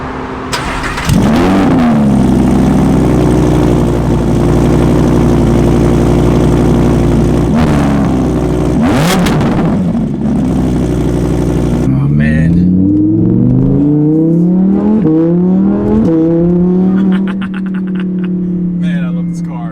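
An Audi R8 fires up from cold with a sharp loud bark and high idle, revs a couple of times, then pulls away with shifting engine notes rising through gears; a voice talks intermittently.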